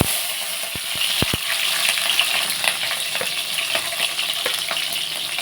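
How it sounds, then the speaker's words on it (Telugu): Green chillies frying in hot oil for a soya chunk keema curry, a loud continuous close-up sizzle with sharp crackles and a few spatula clicks against the pan, no voices. "ఆయిల్ హీట్ ఎక్కుతుంది కదండి మనం ఇందులో ఇప్పుడు పచ్చిమిర్చి వేసుకున్నాం"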